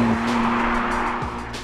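A new BMW M2 slides around a race track with tires squealing loudly, a sustained skid over a steady engine drone.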